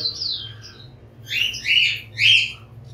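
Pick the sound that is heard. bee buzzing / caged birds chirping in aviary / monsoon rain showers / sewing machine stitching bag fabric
caged birds chirping in aviary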